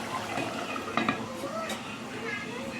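A thick paste is stirred in a cooking pot with a spoon. A steady scraping and swishing runs the whole time, with a couple of brief utensil clinks against the pot.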